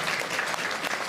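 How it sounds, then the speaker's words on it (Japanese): A crowd at Tokyo DisneySea applauds two people. The clapping is short, soft and somewhat distant, a steady wash of many hands. "みんな二人に拍手してあげてくれる？"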